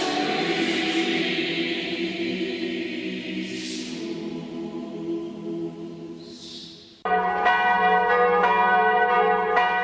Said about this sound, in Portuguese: Os sinos da basílica tocam, chamando as pessoas para as orações da noite.